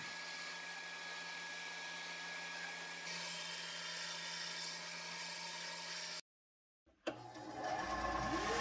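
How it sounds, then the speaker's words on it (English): Bandsaw cutting a slot into a wooden swimbait body, a steady whining drone for about six seconds, then a sudden silence followed by the motor running again. "It's right back to the bandsaw to cut a slot into the bait to fit the soft plastic tail fin."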